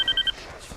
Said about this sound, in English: Shoot, I forgot to turn off my cell phone.